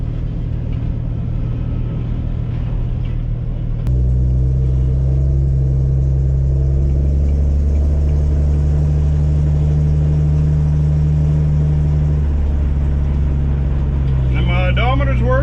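A 1965 Ford Mustang driving on the road, its engine a loud steady low rumble with a shift in tone partway through, close and continuous as if heard from inside the car.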